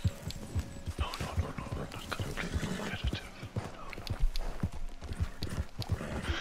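Horse hooves clip-clop steadily in Red Dead Redemption 2, a continuous run of close, sharp hoofbeats under a busy game soundscape.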